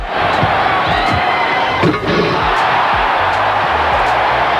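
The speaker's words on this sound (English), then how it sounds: "That booing you hear in the background? That's the Chicago crowd losing their minds because the judges gave Jordan a 47." A packed Chicago arena crowd boos a judges' score at the 1988 NBA Slam Dunk Contest. The roar is loud, dense and sustained, with a brief dip midway.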